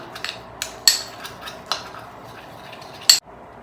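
A spoon mixes gram flour with raw milk in a bowl, giving scattered sharp metallic clinks at an uneven pace, with one final louder clink near the end.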